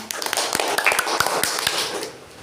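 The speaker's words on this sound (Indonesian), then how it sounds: "Tepuk tangan semuanya" A classroom of students applauds after a group presentation, a steady wash of many hands clapping together that fades out near the end.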